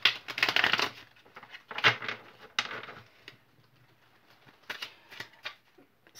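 Bursts of crisp, papery riffling from cards being shuffled, in several uneven flurries with short quiet gaps between them, close and fairly loud.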